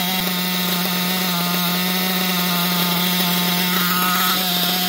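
A Losi LST XXL RC truck's small nitro engine runs loud and close, a steady buzzing idle with a constant high whine and no pauses.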